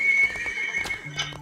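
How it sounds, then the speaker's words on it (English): Maximus, the horse from the Disney Infinity 3.0 video game, lets out a loud, close neigh mixed with a few hoof clops, heard alone. "I'll put on Maximus. The horse, of course."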